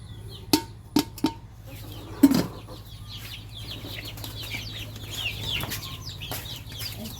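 Pet ducks, hens and roosters gather at feeding time, giving a few sharp clucks near the start and a louder call a moment later, followed by softer chirps and farmyard murmur.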